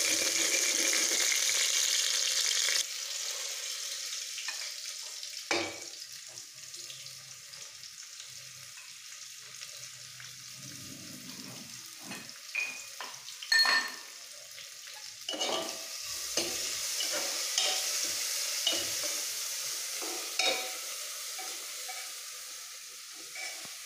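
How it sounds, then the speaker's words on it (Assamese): A fish head muri ghonto frying and being stirred, with a hissing sizzle, intermittent scraping strokes and a few sharper clatters from the pan. "এয়া মাছৰ মুড়ি ঘণ্টা বনাই আছো"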